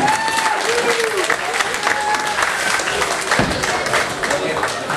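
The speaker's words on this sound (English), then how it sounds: "Let's give a big round of applause." Audience applause at an exhibition sparring event, with dense clapping and crowd voices under it, and a few whistles or shouts rising over the clapping.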